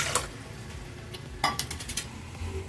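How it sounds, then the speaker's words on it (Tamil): Water pours from a tumbler into a metal pot holding coconut milk for rice, with a splash and clinks of the vessel, then light clattering of utensils close by. "இப்போ ஒரு டம்ளர் தண்ணி ஊற்றிக்கலாம் ஃப்ரெண்ட்ஸ்"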